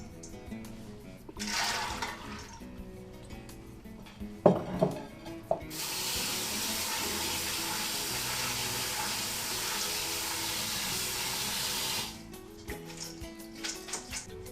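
Water runs from a tap to rinse soaked beans and samp in a strainer, a broad steady rush lasting several seconds between softer clatters and rustles at the sink.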